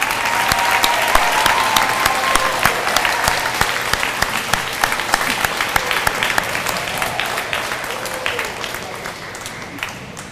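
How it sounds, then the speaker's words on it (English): Audience applause for nursing graduates at a pinning ceremony: loud, dense, sustained clapping from a crowd that stays steady for about ten seconds and eases off slightly near the end. "let's give one last round of applause for our grads"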